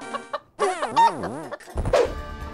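Chickens in the Zelda game Hyrule Warriors cluck loudly and up close in a few sharp, pitch-swooping bursts, separated by short gaps of silence.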